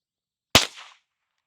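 A single sharp report from a Marlin Model 70P Papoose rifle, the first shot fired, snapping loudly and close with a brief decaying tail and silence on either side.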